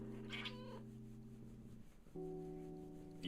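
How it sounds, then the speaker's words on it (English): A cat gives a couple of drawn-out, tonal meows with a wavering pitch, faint and somewhat muffled, followed by a short pause. "you didn't get to see him meow"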